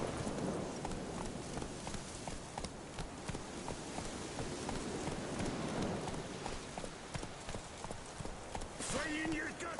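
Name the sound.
horse Roach's hooves in video game The Witcher 3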